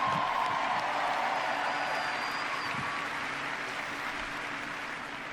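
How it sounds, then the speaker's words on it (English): Audience applause fills a hall at a live video game showcase, a broad steady clatter of many hands that gradually thins and fades over several seconds. "Another round of applause, please, from Marty Hugo"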